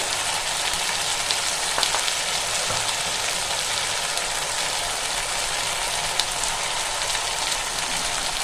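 Cumin and turmeric powder frying in hot oil for a banana stem dish, a steady close hissing sizzle that continues evenly throughout with faint clinks now and then.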